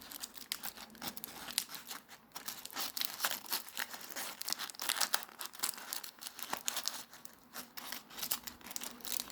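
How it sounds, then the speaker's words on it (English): Quiet, irregular crinkling and snipping as scissors cut through the paper strips of a handmade fish lantern, a close, continuous rustle with no talk. "I've got to cut through those strips"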